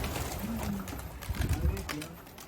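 Restless domestic pigeons coo in short low bursts and flap their wings nearby, with a person speaking over them.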